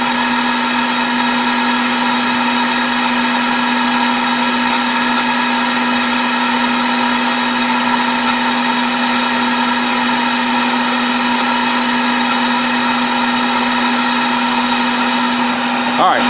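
A 1997 Toyota Camry engine idles steadily with a constant whining, buzzing drone and strong tonal hum, a subtle intermittent noise buried in the running engine sound throughout.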